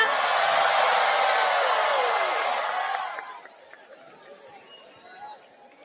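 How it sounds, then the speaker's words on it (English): A large crowd at the Miss World 2025 pageant cheers and screams loudly as India is announced into the Asia and Oceania top five, the roar holding for about three seconds before dropping to quieter chatter. "I think I already hear the crowd."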